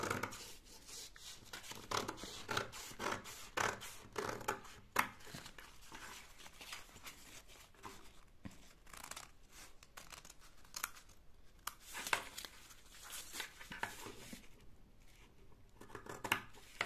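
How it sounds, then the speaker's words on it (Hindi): Scissors snip through fabric to shape a v-neck collar, giving a steady run of close, crisp cuts with brief pauses and a faint rustle of cloth, no talk. "अब हम इसकी कटिंग करेंगे"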